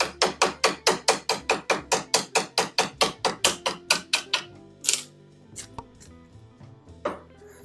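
Harbor Freight chisels hammered into wood: a rapid, steady run of about twenty sharp, close strikes, followed by a few scattered louder knocks and scrapes.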